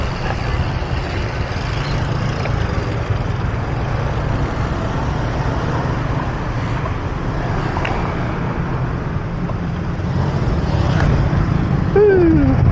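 Road traffic heard from a group bike ride near a gas station: a steady roar of passing cars, trucks and buses with continuous road noise, and a short rising whine near the end.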